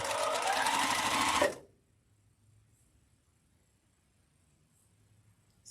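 A sewing machine stitches quilt block seams in a steady, loud, fast whir for about a second and a half, then stops abruptly, leaving near silence.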